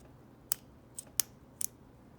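Sharp, light plastic clicks from a Zebra F-701 pen fitted with a Parker G2 refill, four or five brief snaps spread irregularly over a quiet background, close to the microphone.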